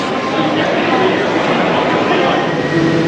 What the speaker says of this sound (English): this is the train to Norwich